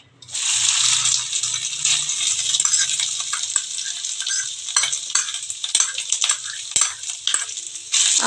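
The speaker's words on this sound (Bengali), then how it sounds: "এবার এক চামচ ঘি দিচ্ছি আমার ঘিটা একদম গলে গেছে এবার আমি নারকেলটা দিয়ে দিচ্ছি" Grated coconut frying in melted ghee in a pan, a steady bright sizzle that runs nearly throughout, with scraping stirs and small clinks layered on top, close and loud, no talking.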